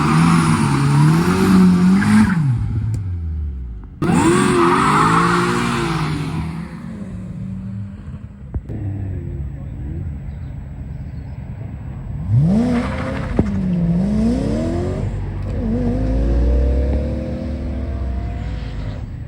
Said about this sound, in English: The all-wheel drive 400, 500 horsepower beast